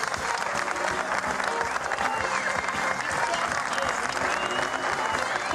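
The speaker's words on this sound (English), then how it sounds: "Everybody clap." A studio audience claps steadily and densely for the whole stretch, a full burst of applause with a faint murmur of the crowd mixed in.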